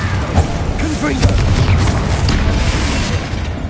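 Explosive Confringo spell blasts in the Hogwarts Legacy video game, a busy run of booming bursts over dense game noise and chatter, loud and close throughout.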